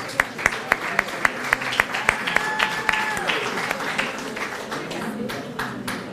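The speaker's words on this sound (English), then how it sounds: "Let's give him a round of applause" Guests at a university ICDL graduation ceremony clap, starting with sharp, evenly spaced single claps up close that build into a fuller round of applause, with a voice briefly heard over it.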